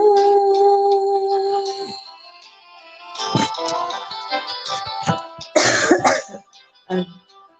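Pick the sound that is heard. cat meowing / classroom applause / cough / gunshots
cough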